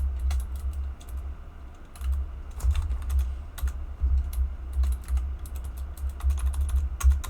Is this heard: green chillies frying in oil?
no